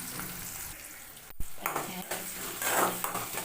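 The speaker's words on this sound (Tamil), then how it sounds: "பச்சை மிளகா வரமிளகா ஒரு வெங்காயத்தில் பாதி வெங்காயம் இதெல்லாம் சேர்த்து நல்லா வதக்கிக்கலாம்" Green chillies, dried red chillies and half an onion sautéing in a pan for semiya upma: a near sizzle with spoon scrapes, a sharp metallic knock partway through, then busier stirring.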